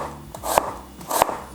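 A knife finely slicing white onion on a board, two soft crunching cuts at a slow, even pace, close and clear with no talk.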